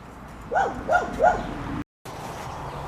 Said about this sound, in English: Alaska started barking at another dog